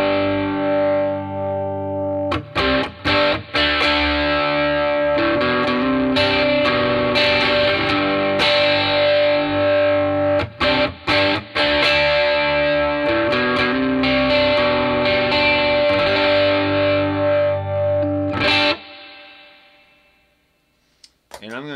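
Electric guitar played through a Peavey Bandit 112 Teal Stripe Edition amp with the high-end edge EQ raised, giving a loud, driven, distorted tone with sustained chords and choppy breaks, ringing out before the end.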